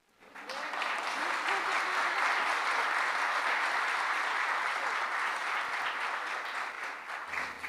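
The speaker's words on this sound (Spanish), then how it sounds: "así que aplaudan cuando quieran" Concert audience applause for a philharmonic orchestra swells quickly into a dense, sustained wash of many hands clapping, steady throughout before easing slightly at the end.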